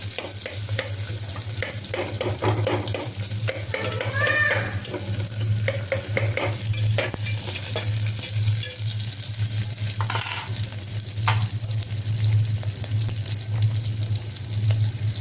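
Sliced onions and green chilli sautéing with a pinch of salt in a pan, a loud continuous sizzle with scattered spatula scrapes and a low steady hum running underneath.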